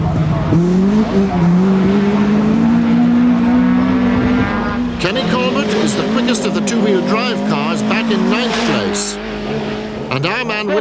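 A two-wheel drive Ford Escort rally car drives a stage at the 1991 Lurgan Park Rally, its engine droning loudly, then revving hard with squealing tires and gear changes while a commentator talks throughout.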